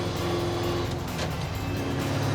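A muscle truck's engine pulls hard through another gear, a loud, continuous close-up drone rising in pitch inside the cab.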